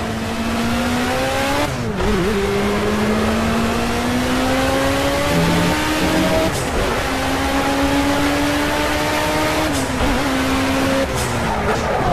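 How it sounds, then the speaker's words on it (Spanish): A race car engine in Project Cars screams around Mount Panorama, holding a loud, steady high-revving whine that drops sharply at each gear change or braking point before climbing again. "Corre el coche, ¿eh?"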